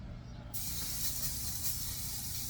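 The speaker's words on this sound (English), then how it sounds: "You're going to hear this thing sear." A loud, steady sizzle bursts in and hisses continuously as a salted and peppered hamburger patty hits a very hot pan up close.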